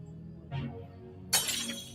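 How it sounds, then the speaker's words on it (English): A gun butt smashes a car window: a soft thud, then a sudden bright crash of shattering glass with tinkling fragments trailing off, close and fairly loud with no talking. "he takes the butt of his gun and shatters the window of Tupac's car"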